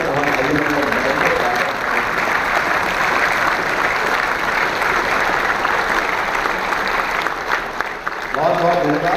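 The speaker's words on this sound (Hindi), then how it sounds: "अपने अपने स्थान पर खड़े होकर एक बार ताली बजा के भारत के किसानों का हम अभिनंदन करेंगे" A conference audience in India bursts into sustained applause for the country's farmers, a dense, loud clapping that fills the room for several seconds with faint crowd murmur.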